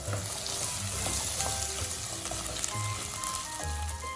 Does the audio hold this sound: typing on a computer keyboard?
no